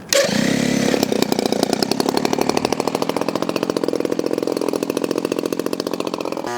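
Gas engine of a 71-inch Legend Hobby P-51 Passion Wagon RC model plane cranks up and runs, a loud, rapid, buzzing idle with a steady pulsing beat, close and alone.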